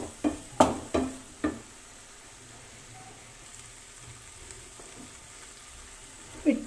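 Biryani masala roasts in a pan for Kerala fish dum biryani, opening with a few sharp stirring clatters, then a soft steady sizzle, and ending with more scraping at the close.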